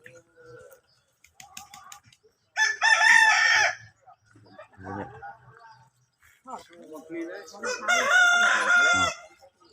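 A rooster crows loudly twice with long harmonic calls, separated by quieter clucking and chatter from chickens in a rural village yard, with a person speaking faintly in between.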